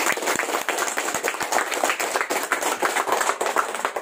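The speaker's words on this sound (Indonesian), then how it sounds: "Tepuk tangan untuk kita semua, apalagi guru dan kalian semua." Students in a junior high school classroom clap together, a dense, steady patter of hand claps filling the whole stretch at moderate loudness with no talk over it.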